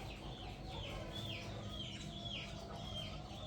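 Bantam roosters cluck in a repeating series of short calls over a constant low background rumble, faint and steady, with no speech.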